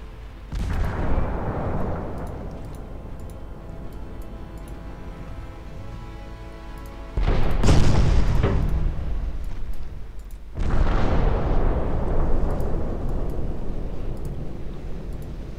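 Torpedo hits on warships in Ultimate Admiral Dreadnoughts land as three heavy explosions, each a loud booming burst followed by a long rumbling decay.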